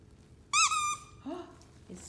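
A squeaky dog toy gives one loud, sharp squeak with a falling pitch, followed by a softer second squeak and a faint third. The squeaks stand out clearly against a quiet room.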